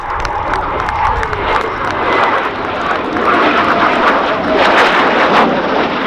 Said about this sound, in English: With the F-18C Hornet. A magnificent display.